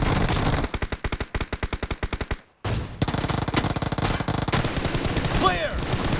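Automatic gunfire in PUBG Mobile rattles in quick bursts, a rapid string of close shots, a brief silence, then another dense volley with a distant sweeping tone near the end.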